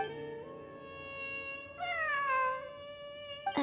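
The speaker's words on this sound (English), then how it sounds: "I'm not hearing things. It really is a cat." A cat meows in the video game Genshin Impact, with one long drawn-out tonal meow that rises and falls, close and clear, and a brief sharp sound right at the end.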